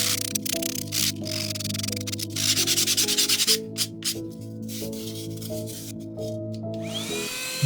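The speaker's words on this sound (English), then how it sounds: "Now back to sanding with a finer grit for that perfectly weathered finish." Foam being sanded by hand with finer grit sandpaper: close, rough rubbing strokes in an uneven rhythm, layered over steady tonal background music, with no talking.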